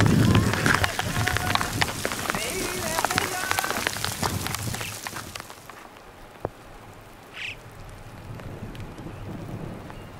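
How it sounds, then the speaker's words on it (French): Steady rain pours down heavily during a thunderstorm on a mountain hike in the Authion massif, then eases into a softer patter; a faint rumble and a brief sharp sound stand out near the end. "Et la pluie reprend là."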